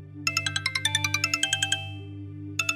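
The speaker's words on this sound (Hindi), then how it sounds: "किसका फोन आ रहा है?" An electronic phone ringtone chimes in a rapid series of bright, tinkling bell-like notes over a low steady hum, pausing briefly before starting again.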